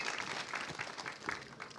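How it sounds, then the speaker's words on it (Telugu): An audience at a film trailer launch event applauds in a faint, steady patter of many hands clapping, heard from a distance with no voices. "ప్రశాంత్ వర్మ గారికి ఒక్కసారి గట్టిగా చప్పట్లు."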